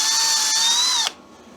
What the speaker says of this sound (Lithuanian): Kabeliukui skylę prasimalt.